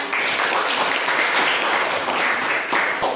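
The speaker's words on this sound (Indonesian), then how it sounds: "Tepuk tangan untuk kita semua" A classroom of children gives a round of applause, dense and steady clapping that fills the room without a break for about three seconds.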